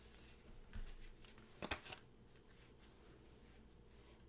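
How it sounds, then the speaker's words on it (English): Quick riffle of tarot cards shuffling, a short crisp burst in the middle of an otherwise quiet room, with a light rustle before it. "shuffle and deal"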